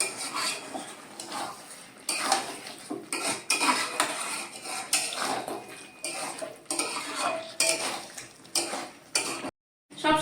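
A spoon stirring potatoes in a cooking pan, repeated close clinks and scrapes of metal on metal in an uneven rhythm, with a brief pause near the end.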